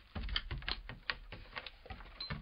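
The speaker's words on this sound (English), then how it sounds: "here's the sound of the cat walking," A sampled recording of a cat walking, played back on a single synthesizer key, comes through as a faint, quick run of soft clicking and tapping steps in an irregular rhythm.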